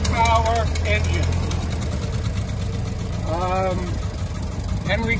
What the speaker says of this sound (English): I can show you the engine. It's a 20 horsepower engine.